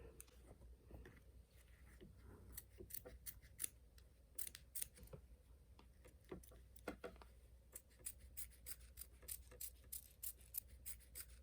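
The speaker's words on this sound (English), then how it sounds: "you're just going to cut close enough to the tack down stitch with your applique scissors" Close, crisp snips of applique scissors cutting through fabric in an embroidery hoop, coming in irregular bursts of quick clicks separated by brief pauses.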